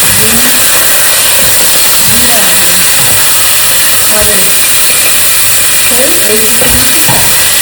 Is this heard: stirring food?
yes